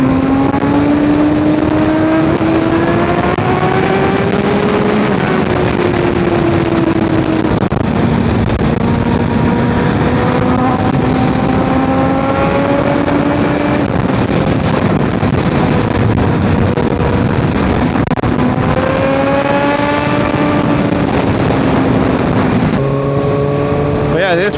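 A Suzuki GSXR 1000R motorcycle engine accelerates hard through repeated rising pulls and gear changes, loud and close under heavy wind rush, with a rider's voice now and then.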